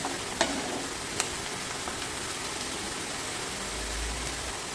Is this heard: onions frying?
yes